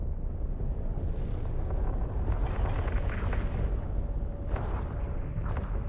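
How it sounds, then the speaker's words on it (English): Ship guns fire in the EVE Online space game as a continuous, loud rumbling barrage of booming blasts and roaring bursts, heard alone without any talk. "Fire at will, Captain. Make sure to use both of your guns."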